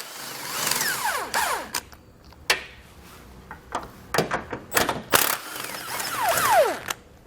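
Bolts coming off a tow hook bracket with a 16mm socket ratchet while a Roadmaster base plate goes onto a 2020 Jeep, giving bursts of metallic ratcheting clicks and clanks, close and fairly loud, with pauses between runs.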